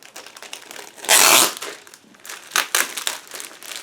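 A plastic bag holding model kit sprues crinkles close by, with one loud rustling burst followed by scattered lighter crackles and crumples.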